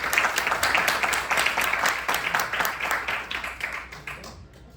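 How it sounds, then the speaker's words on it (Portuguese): An audience applauding at a startup pitch event, dense rapid clapping from many hands, steady and fairly loud before fading out at the end. "Salve de palmas, por favor."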